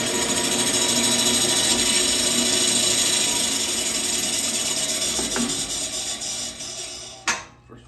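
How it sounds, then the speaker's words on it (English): A bandsaw cuts through material for a custom ski leg build, a steady close grinding whir that holds for about seven seconds and then stops with a brief clunk. "Cutting this with the bandsaw."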